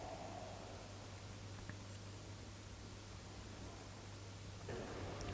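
A white-noise effect hisses during a boss fight in Neverwinter's Lair of the Mad Dragon, a faint, continuous static wash over a low steady hum, with a slight swell near the end.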